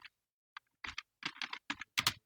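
Fingers strike a computer keyboard in quick, uneven bursts of close, crisp clicking keystrokes, with brief pauses between them and no talk.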